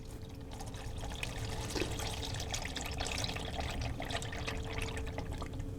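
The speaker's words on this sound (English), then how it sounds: "So just let that drain all the way out" Dirty engine oil drains from a 2003 Hyundai Santa Fe with a 3.5-liter V6 into a pan below, making a steady, soft pouring trickle that keeps up without a break.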